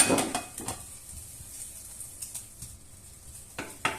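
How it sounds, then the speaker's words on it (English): Meat cooks in a pan on lowered heat for carbonara: a quiet, continuous sizzle broken by a few light clinks and scrapes of a utensil against the pan, with no talking. "Meanwhile, my meat is cooking."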